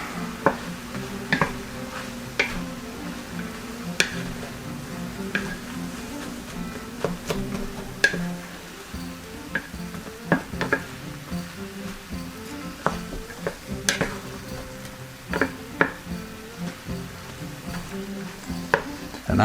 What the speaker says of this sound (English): We'll put our red peppers in. Our onions. I'm gonna mix that up here.